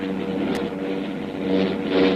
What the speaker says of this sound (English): Those motors are getting worse.